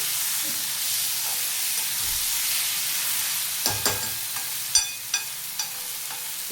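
Onion and tomato roast in a pan for a spicy chutney, giving a steady sizzling hiss with a few stirring scrapes and clinks near the end.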